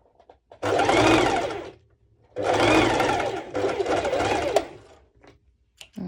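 A serger sews bikini bottoms with an elastic guide, running in two bursts of fast, whirring stitching. A pause separates the bursts, and quiet gaps of near silence come before and after.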